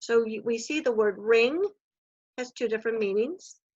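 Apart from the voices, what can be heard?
No distinct noise like a dog, phone or traffic.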